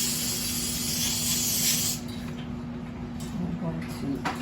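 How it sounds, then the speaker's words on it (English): Lysol disinfectant aerosol sprayed in a sustained, close hiss for about two seconds, then fading out, with a room hum underneath. "I'm gonna spray some Lysol."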